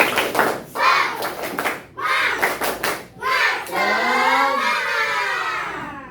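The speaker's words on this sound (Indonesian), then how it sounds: "Tepuk tangan, tepuk semangat ya, tepuk semangat" Schoolchildren in a classroom clap in a rhythmic group cheer pattern, bursts of synchronized claps in groups followed by a shouted chant of voices at the end.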